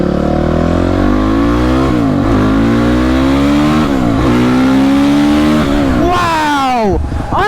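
A gas car engine revs hard and loud, pitch climbing and dropping in repeated surges, ending with a sharp high rev that falls away.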